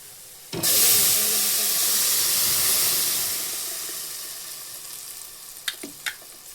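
Onions hit hot oil in a tempering for fish curry, bursting into a loud sizzle that slowly settles to a softer hiss, followed by a few utensil clinks.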